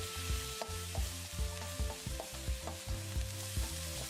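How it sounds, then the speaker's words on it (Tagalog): Chicken with shimeji mushrooms sautés in a hot pan with steady, close sizzling, punctuated by regular knocks and scrapes of a utensil stirring against the pan. "Sinasangkotsa lang natin para mawala yung lansa ng ating chicken."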